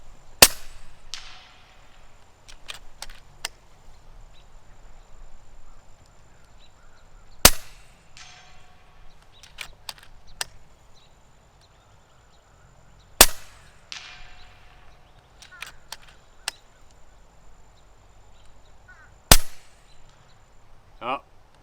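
A 2020 FX Crown MKII .30 calibre air rifle fires four separate shots several seconds apart, each a loud, sharp crack followed by a brief metallic ring as it hits a target downrange, with quiet between them.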